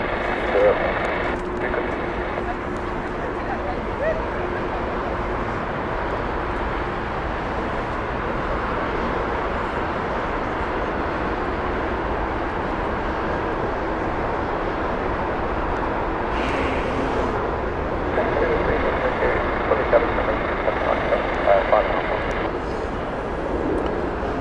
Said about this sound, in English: Inbound next, we have the Berlin flight. This is Airbus A319 from British Airways.